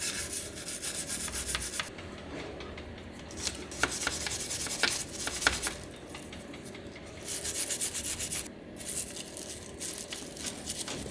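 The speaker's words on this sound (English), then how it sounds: "So I've got this little stainless steel wire brush, and I'm just going to do my best to get in there, get the worst of it off" A small stainless steel wire brush scrubs rust and grime off a truck's transfer case, making steady raspy rubbing strokes in uneven bursts with short pauses, close and moderately loud, with no talking.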